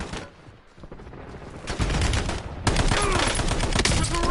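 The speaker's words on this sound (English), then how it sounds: "Sniper's still shooting at me" Gunfire from a sniper rifle in Call of Duty Warzone, heard as a dense run of sharp shots and crackling bursts that grows louder partway through and stays loud and busy.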